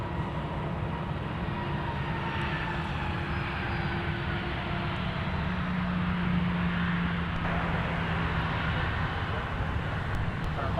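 A Sun Country airliner arrives at MSP airport, its steady jet roar filling the clip from start to finish at a constant level, with faint radio chatter in the background.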